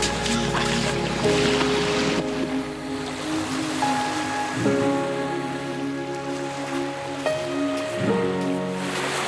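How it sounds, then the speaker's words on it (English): Ocean waves washing ashore at Third Beach in Vancouver on Canada's west coast, a steady broad surf wash with a low rumble, mixed with tonal hums like a passing boat engine, no talking. "So this is Third Beach."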